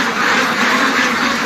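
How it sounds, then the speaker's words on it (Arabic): French ducks on a farm quacking in a dense, overlapping chorus, loud and close, without a pause throughout. "بط ارخص من الفراخ يا جماعة"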